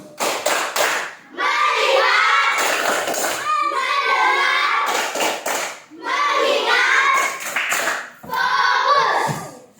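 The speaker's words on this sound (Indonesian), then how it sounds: "Tepuk fokus." A class of fourth-grade schoolchildren performs the 'tepuk fokus' clapping routine, bursts of sharp group claps alternating with chanted children's voices in a lively, loud classroom.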